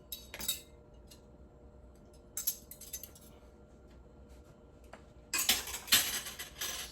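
Metal utensils clink in short bright bursts as they are lifted from the rack of a Maytag dishwasher, several scattered clatters with a denser run of clinks near the end, moderately close against a quiet kitchen background.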